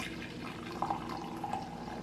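Coffee pours into a cup in a soft, steady trickle with a couple of faint splashes, close by and quiet against a low background hum.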